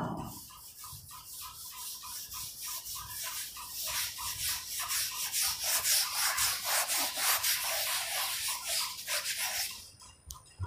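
A duster or cloth rubs a written point off a classroom board in steady, rapid back-and-forth scrubbing strokes, loud and close, lasting several seconds before stopping.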